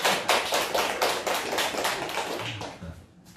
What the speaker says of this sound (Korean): 박수 한번 쳐야 되는 거 아니에요?